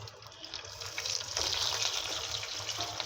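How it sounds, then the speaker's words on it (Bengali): Rui fish coated in turmeric and salt sizzling in hot oil in a frying pan, a steady hiss and crackle that swells after the first second and holds at a constant level, with no talking. "এখন আমি মাছটা ভালোভাবে ভেজে নেব।"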